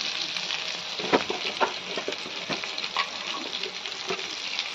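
Sliced snake gourd sizzles loudly in a hot pan with cumin, a steady broadband frying hiss broken by occasional sharper crackles and spatters, close and continuous with no talking.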